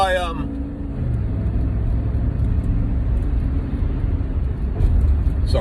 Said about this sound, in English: It's traffic.